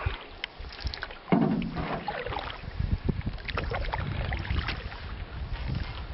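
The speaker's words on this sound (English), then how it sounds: "we can paddle faster if I paddle from two sides" A canoe paddle dipping and pulling through lake water, several soft splashing strokes close by, with strong wind buffeting the microphone throughout and no talk heard.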